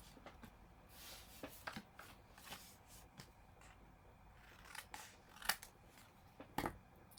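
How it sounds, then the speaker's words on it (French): Scissors snipping diagonally through paper while preparing a scrapbook photo album page, a run of close, quiet cuts in an irregular rhythm with soft rustling between them. "on va couper dans la diagonale ici le bas"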